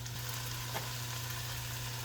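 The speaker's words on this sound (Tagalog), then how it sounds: "And then mix, gisa-gisa, gisa-gisa." Vegetables and shrimp sauté in a hot pan with pepper and salt for butter shrimp fried rice, a steady close sizzle with faint stirring and no talk.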